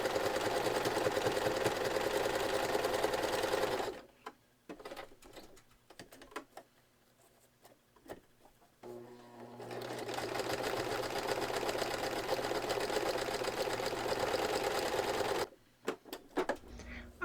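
A sewing machine stitches a zigzag buttonhole in steady rapid bursts, a long run, a pause with scattered clicks, then another sustained run before stopping.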